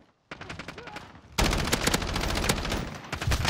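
Rapid gunfire from the Modern Warfare shooter game, RAM-7 rifle bursts cracking close and loud, starting sparse and then a dense sustained volley of shots that continues to the end.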